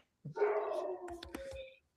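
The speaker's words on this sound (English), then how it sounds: "That was my dog." A single drawn-out dog bark rising into a short howl, close and fairly loud, ending in a few quick yips.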